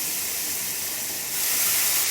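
Crushed garlic hits hot oil in a pan for a Bengali doi katla fish curry, giving a steady broadband hiss that swells louder midway and holds, with no voices.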